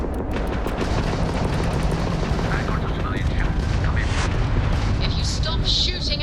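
Spaceship weapons fire during a space battle in Starfield, heard as a loud, dense barrage of booming blasts and crackling bursts that runs unbroken throughout, with voices partly mixed in.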